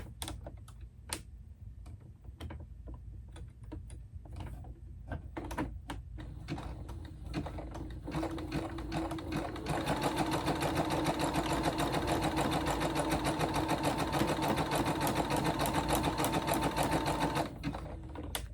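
A sewing machine runs a zigzag stitch on fabric, beginning with a few scattered clicks and short bursts, then a steady, fast mechanical chatter for several seconds, close and alone.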